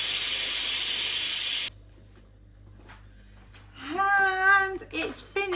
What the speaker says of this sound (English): So now I press the cancel and then release the pressure.